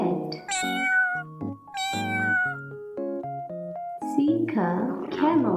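A cat meows in a children's animal-learning sequence, with short tonal meow calls set among bright synthesized musical notes, fairly close and clear.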